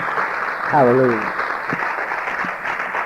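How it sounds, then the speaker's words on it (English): Congregation clapping hands in praise at a church testimony service, a steady broadband patter filling the clip while a voice calls out once over it. "Give the Lord a hand clap of praise."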